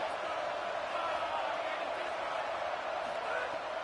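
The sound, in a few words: roaring football stadium crowd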